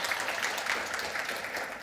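Steady applause from a conference audience welcoming a keynote speaker, moderately loud and continuous for a couple of seconds, with no voices over it.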